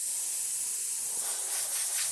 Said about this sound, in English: you're going to see a lot of steam coming out